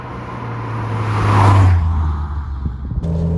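A 400bhp Ford Cosworth estate car rolls on in third gear, its engine note swelling into a smooth acceleration that peaks midway and then settles, heard from inside the car.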